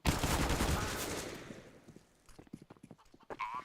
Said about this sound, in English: Cheeky's got an AK.